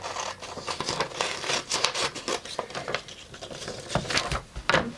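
Fabric being cut out with scissors for an Elsa costume pattern, a busy run of close snipping, rustling and rubbing sounds at a steady, moderate level with no talk.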